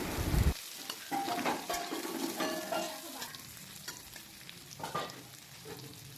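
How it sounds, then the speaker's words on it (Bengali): Onions fry in a pan for a lentil dish, a steady close sizzle broken by scraping stirring strokes, with no talk. "আমার কিন্তু পেঁয়াজটা লাল লাল ভাজা হয়ে গেছে"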